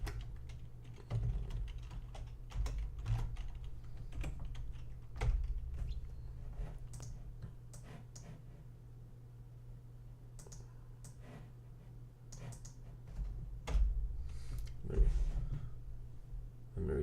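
Rapid, irregular clicks of a computer keyboard being typed on close by during CSS coding, in steady bursts with short pauses, alongside a low background hum and occasional speech.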